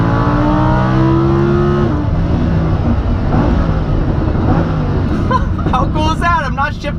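Lamborghini Huracan in automatic mode accelerating hard on a race track, its engine note rising and shifting gears under a steady loud drone, with someone talking over it throughout.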